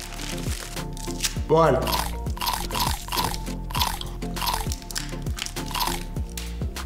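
Gum pieces are stuffed into a mouth and chewed with wet, crinkly crunching and squishing sounds close up, alongside wrapper rustle and a brief spoken word.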